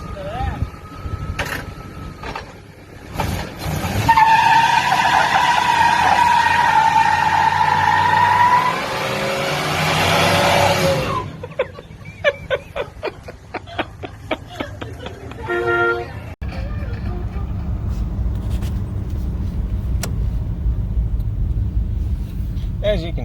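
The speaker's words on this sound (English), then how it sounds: "we just got done doing a massive burnout" A Buick Roadmaster does a burnout, its tires skidding and engine revving in a loud, roaring stretch in the middle before settling into a rough idle rumble with scattered clatter nearby.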